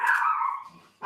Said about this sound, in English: Oh, that's my dog.